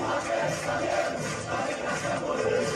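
A huge football crowd roars and cheers in a send-off, a dense, sustained wall of voices swelling and pulsing without a break.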